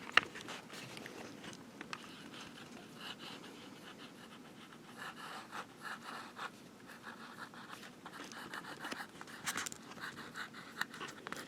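A Sheaffer matte black fountain pen's smooth nib writes on paper laid over cardboard. Faint, soft scratching and scraping comes in irregular strokes, close but quiet, with no talking.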